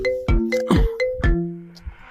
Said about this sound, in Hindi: कौन फोन लगाया था अभी?